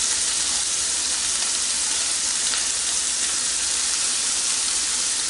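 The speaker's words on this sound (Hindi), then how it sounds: "ये कीमा अपने ही पानी में पक रहा है।" Minced beef keema cooks in its own liquid in a pan on high heat, giving a loud, steady sizzle and bubbling hiss throughout, close and continuous with no talk.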